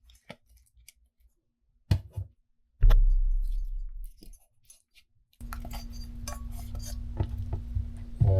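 Large tomato chunks set one by one into a cooking pot, heard as a few close, sharp knocks and clunks separated by quiet gaps, then a steadier rustling and handling noise.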